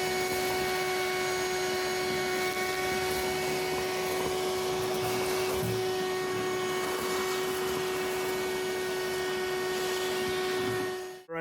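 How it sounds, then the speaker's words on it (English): A vacuum cleaner runs steadily and loudly with a constant high whine while cleaning out a vehicle, then cuts off abruptly at the very end. "let's vacuum this crap out"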